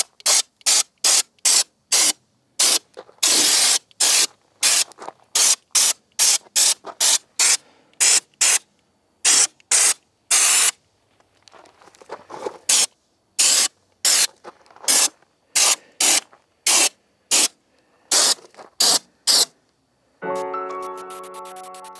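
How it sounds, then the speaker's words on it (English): Repeated bursts from a spray gun applying Raptor bedliner coating on a 1972 Challenger, each loud hissing blast lasting about a second with brief pauses between, ending in a longer sputtering spray. "We'll come back and spray some Raptor."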